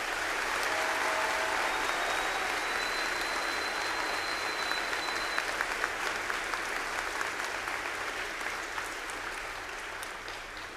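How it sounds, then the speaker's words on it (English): A school assembly audience at a Veterans Day program gives a sustained round of applause for honored veterans, steady and full throughout before slowly thinning toward the end. "Please give them one last round of applause."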